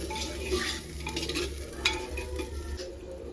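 Masala for handi chicken, with salt and tomatoes, sautéed in a pan on a gas stove: a low steady sizzle with intermittent spoon scrapes and a sharp clink, close and fairly quiet.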